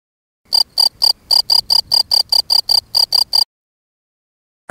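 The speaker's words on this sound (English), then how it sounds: "Cricket." Crickets chirp in the Vocal Zoo mobile game, a loud, close run of about thirteen evenly spaced, rapid chirps with nothing else behind them, then silence.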